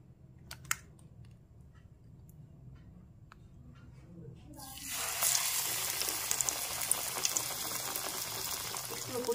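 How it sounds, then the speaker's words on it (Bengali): Besan-battered eggplant slices for crispy beguni hit hot oil and fry, a bright sizzle rising suddenly midway and holding steady and fairly loud to the end, after a quieter stretch of kitchen noise and soft speech. "একটা করে বেগুন ভালো করে বেসনের ব্যাটারের মধ্যে এপাশ ওপাশ করে ব্যাটার মাখিয়ে নিয়ে ভেজে নিতে হবে।"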